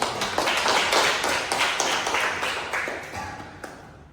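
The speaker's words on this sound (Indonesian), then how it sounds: "hanya tepuk tangan" Classroom audience of students claps in a short burst, dense clapping that starts strong and gradually thins and fades, with a few scattered late claps near the end.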